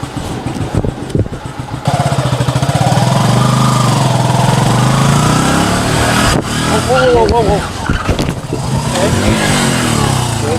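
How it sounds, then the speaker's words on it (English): A motorcycle engine runs loud and close near Puka Shell Beach in Boracay, holding a steady drone that swells and revs unevenly as the bike swerves, with a man's startled exclamation and other voices over it. "I got on a motorcycle, it started swerving"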